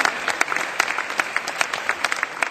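Conference audience applauding for a speaker at a marketing debate event, a dense steady clatter of many hands with sharp individual claps standing out, loud and close throughout.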